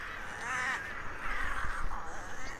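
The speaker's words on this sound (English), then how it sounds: "This crow's a little loud." Loud crow caws in the Redfall video game, a few harsh repeated calls close by with faint background ambience.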